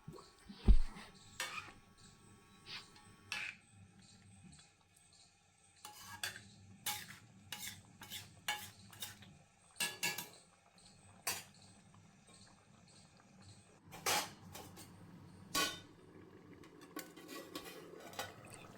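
Chicken curry is stirred in a pot on a low-to-medium gas flame, with repeated spoon scrapes and metal clinks against the pot, then a lid is set down, under a faint background hum.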